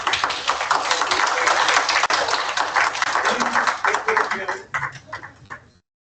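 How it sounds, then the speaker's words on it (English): An audience at a school convocation applauds students, with a dense wash of clapping that fades out toward the end, while voices are heard under and through it. "let's give them a round of applause"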